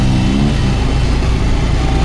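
Motorcycles carry six riders, two to a bike on three bikes, and a close, steady engine drone holds throughout with slight rises in revs.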